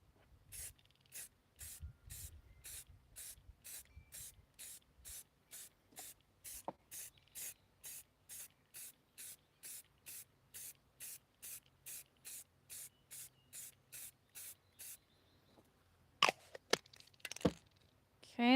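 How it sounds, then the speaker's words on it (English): Brown spray paint hissing from a nearly empty aerosol can in a long run of short, evenly spaced bursts, close and clear, followed by a few sharp handling clicks at the end. "let's see if the brown spray paint wants to be nice"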